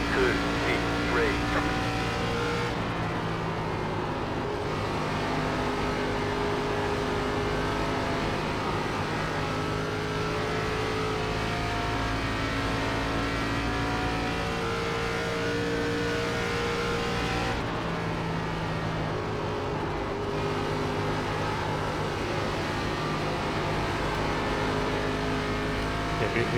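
ARCA Legacy race car engine lapping Charlotte in iRacing, a steady loud drone with shifting pitch tones running continuously and close throughout, no clear passes or breaks.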